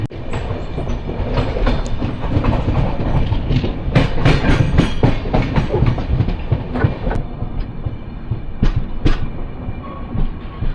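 A train runs along the rails near Udupi railway station in the rain, a loud, steady rumble with rapid clattering wheel beats and sharp metallic clanks throughout, no talk.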